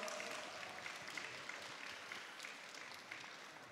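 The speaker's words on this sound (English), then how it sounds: "Let him hear your applause." Applause from the audience at a mathematics awards ceremony, steady and fairly faint, as if heard from a distance, holding evenly for the few seconds.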